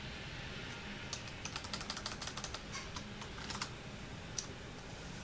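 Soft, rapid keystrokes on a computer keyboard come in an irregular run of light clicks with brief pauses, quiet and close, while data is entered into an office accounting program.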